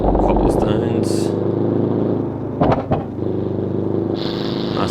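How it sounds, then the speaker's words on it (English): Simulated car engine in BeamNG.drive, driven hard over cobblestones in Italy, revving loudly throughout with a couple of sharp backfire pops near the middle, while someone talks over it. "Nice backfires there."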